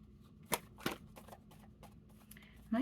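Tarot cards being shuffled and handled in short bursts: a few sharp flicks and riffles, then quieter soft card noises, ending with a brief voice.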